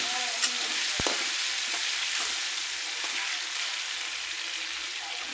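Potatoes sizzling steadily in a pan, a continuous close frying hiss with one sharp utensil tap near the start and faint stirring scrapes, no talk.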